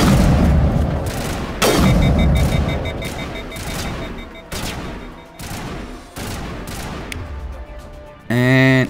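A weapon in Mass Effect fires in a series of loud, heavy booming shots, each followed by a ringing decay, spaced roughly a second apart, with a sharp electronic burst at the very end.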